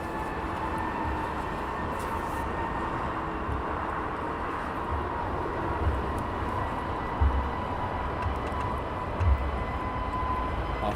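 A small British Airways jet departing Heathrow, a steady, moderately distant engine roar and rumble that holds at an even level throughout, with a faint tonal whine above it and a couple of brief low thumps.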